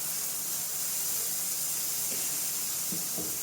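Turmeric powder frying in oil in a pan, a steady close sizzling hiss that runs the whole time with a few faint clatters near the end.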